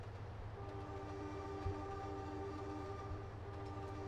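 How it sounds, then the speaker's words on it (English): A locomotive horn sounds in the Trainz Simulator 2 railway game, a sustained multi-tone blast held steadily over a low engine rumble, fairly quiet overall with a faint thump partway through. "Just pull the horn"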